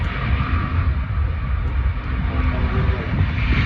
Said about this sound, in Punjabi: ਕੈਥੇ ਪੈਸੀਫਿਕ ਇਹ ਟੇਕ ਆਫ ਹੋਣ ਲੱਗਿਆ